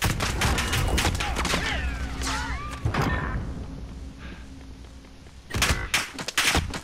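Bursts of gunfire in Call of Duty Modern Warfare: a dense opening volley with whizzing and impacts, a quieter pause, then a fresh flurry of loud shots near the end.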